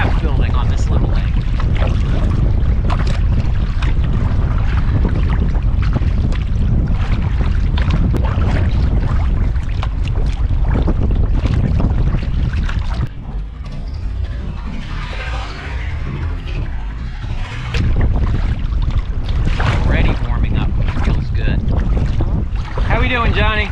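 Strong winter wind buffets and roars across the microphone over choppy, whitecapped water on a small lake while paddling a kayak into the wind, nearly constant, briefly easing midway before gusting hard again.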